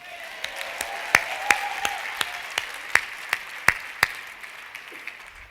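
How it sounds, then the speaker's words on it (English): Audience applause for a flash mob at an education keynote: a steady wash of clapping from a hall crowd, punctuated by a handful of sharp, loud individual claps near the microphone, fading slightly toward the end. "Let's give him one more big round of applause for my flash mob."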